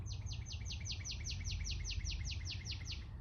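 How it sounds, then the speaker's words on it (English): A bird repeats a rapid, steady string of high chirps, about fifteen in quick succession, over a low constant hum. "One more sound of the bird."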